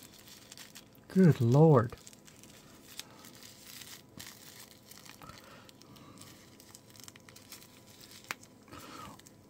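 Crinkling plastic bag being handled while unboxing a 7RYMS iRay DW10 wireless lavalier microphone set, a loud burst of rustling lasting under a second, followed by quiet handling and a brief spoken exclamation.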